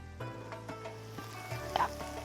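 Carrots cook in a little oil in a home kitchen, a soft, steady sizzle heard up close, with a few light clinks and stirring knocks and a low hum underneath, and no talking.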